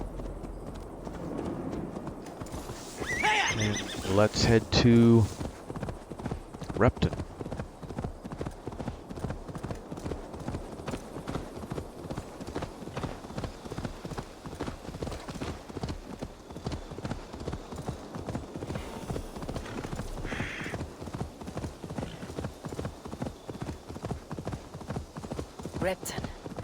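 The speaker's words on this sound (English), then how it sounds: "Back on the horse." Horse hooves clip-clopping in steady galloping rhythm in Assassin's Creed Valhalla, with a brief whinny early on and someone talking over the hoofbeats.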